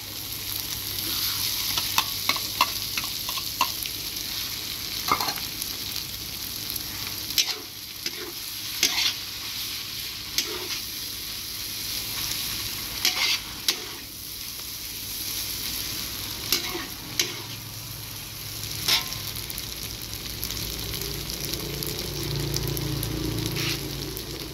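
Egg frying with kuey teow noodles in a hot wok, a steady sizzle running throughout with repeated clacks and scrapes of stirring, loud and close with no talking.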